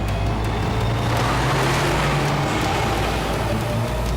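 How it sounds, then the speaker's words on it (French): A cartoon car roars along in a steady, loud engine drone with a low rumble, racing continuously for a few seconds with no talking. "Accélère, Alex."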